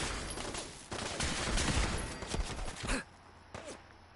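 Gunfire from 5.56 rounds aimed at the player in Fallout 4, rapid automatic shots crackling for about three seconds, then cutting off, followed by a single faint later burst.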